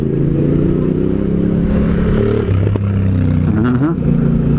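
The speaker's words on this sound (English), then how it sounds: "Nice loud exhaust on your Africa Twin." An Africa Twin motorcycle with a loud exhaust passes close by on the road. Its low, rumbling engine drone holds steady, then the revs rise and fall as it goes past, with some clatter.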